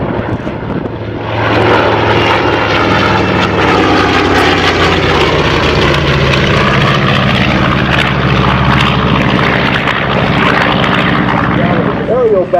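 Two Wright R-2600 Double Cyclone 14-cylinder air-cooled radial aircraft engines, rated at 1,700 horsepower, at the 2005 Saskatoon air show: a loud, throbbing propeller drone that swells after a quieter start and holds steady and close.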